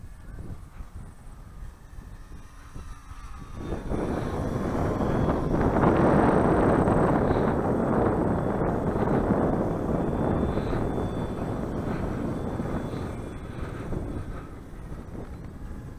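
A FliteTest Versa Wing RC plane, scaled to 148 percent, flies at half throttle, a steady broadband motor-and-prop whir that swells and fades as it passes, with wind buffeting on the microphone throughout.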